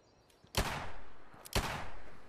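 Two sharp, loud gunshots from a gun in Fallout 76 ring out about a second apart, each with a booming tail that fades slowly.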